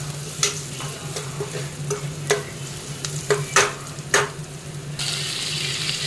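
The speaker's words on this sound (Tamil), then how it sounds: "தக்காளியை சேர்த்து நல்லா வதக்கிக்கணும்" Tomatoes sizzle in a hot pan while a utensil scrapes and stirs them in irregular strokes, the frying hiss growing louder toward the end.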